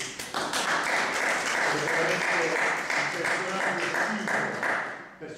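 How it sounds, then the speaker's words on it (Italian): A crowd applauds steadily for several seconds, a dense wash of clapping that swells quickly and fades at the end. "io direi un minimo applauso a Bruno Mancini"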